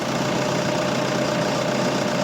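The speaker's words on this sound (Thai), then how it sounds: "เสียงเครื่องยนต์ดังนิ่มมากนะครับ ไม่ดันไม่ไอแน่นอนนะครับ" A 2010 Toyota Vigo Smart Cab 2.5 pickup engine idles steadily and evenly, a continuous low rumble with a faint rhythmic knock, close by and with no voices.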